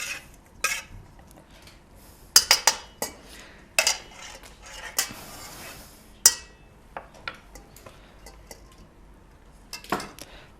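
A utensil mixes vinegar and olive oil in a bowl with sporadic clinks and scrapes against the dish. The knocks come in irregular short bursts over quiet kitchen background, with no talking.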